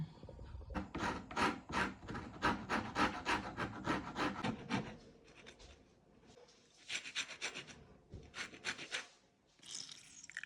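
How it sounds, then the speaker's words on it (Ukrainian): Orange zest is grated from a single orange, heard as quiet, rapid, raspy scraping strokes in two runs separated by a short pause, close and with no voices. "тепер натираємо цедру одного апельсина і вичавлюємо сік з нього"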